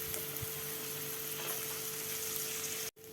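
Onion, beans and carrot sauté in a pan for a mushroom rice dish, giving a steady, close sizzle that runs without pause before cutting off abruptly near the end.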